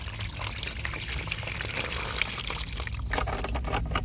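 Brown flushing water pours steadily out of the radiator of a 1989 Jeep Cherokee with a 4.6L stroker engine, a continuous splashing gush close by with no talk.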